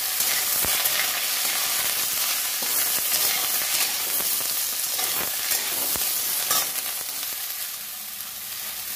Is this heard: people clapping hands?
no